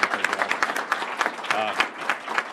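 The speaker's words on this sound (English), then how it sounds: "I think he deserves another big round of applause" An audience at a public charter schools announcement applauds, a dense patter of clapping that swells and fades over a couple of seconds, fairly close and with no talk over it.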